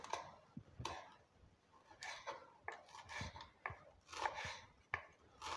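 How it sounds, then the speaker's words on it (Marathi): Leafy chakwat (bathua) greens are chopped on a board, a series of quiet, irregular knife cuts and rustles close by. "ही भाजी आपण आता कापून घेऊया।"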